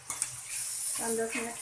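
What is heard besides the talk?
chopped onions frying in a pan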